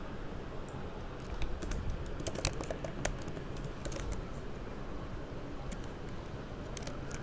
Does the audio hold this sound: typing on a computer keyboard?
yes